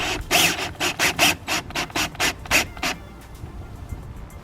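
A flathead screwdriver loosens the hose clamp on a Forge Motorsport silicone induction coupler on a Mini JCW F56, making a quick run of about a dozen rhythmic scraping clicks close by before it goes quiet.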